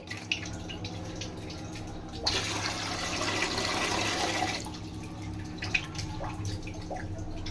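Water for semolina payasam gushes into a pot in a single steady pour of about two seconds, close and clear, framed by quieter drips and small kitchen clatter.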